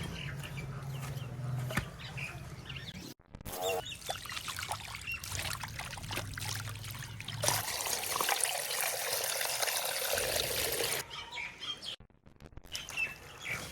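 Raw chicken pieces rinsed under running water while being cleaned after scoring, for a village-style wedding chicken steam roast; steady splashing and trickling close up, with brief pauses and louder gushes midway, no talk.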